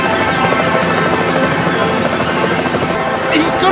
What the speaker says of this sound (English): The pilot is having a bit of trouble trying to keep the aircraft steady.